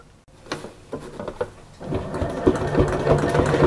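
Sewing machine stitching fabric for a quilted wall hanging: a few loose mechanical clunks, then a steady, loud, rapid run of needle strokes that continues to the end.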